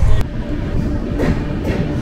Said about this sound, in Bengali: ট্রেন পানাগড় ছেড়ে দিল।